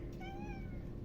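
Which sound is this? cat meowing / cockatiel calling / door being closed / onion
cat meowing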